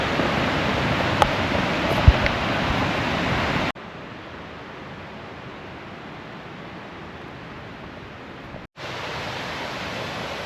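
Steady rushing water from the Roswell Mill trail waterfall near Atlanta, a constant broadband roar with a short spell where it drops quieter before returning.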